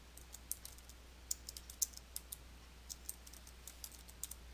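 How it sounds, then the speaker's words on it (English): Light, sparse keystrokes on a computer keyboard while adding text in Photoshop Elements 2021, individual soft clicks spaced irregularly over a quiet background hum. "Then type the text you want to add."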